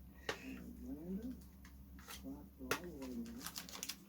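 A pigeon or dove coos in a soft series of rising and falling calls, fairly close, with sharp clicks and knocks around it.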